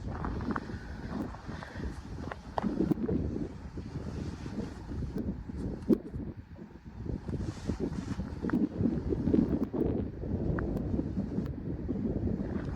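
Gusty wind buffets the microphone at a rifle shooting range in low rumbling surges, steady throughout with occasional sharper gusts, outdoors and without speech.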